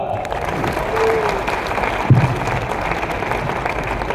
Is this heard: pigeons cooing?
no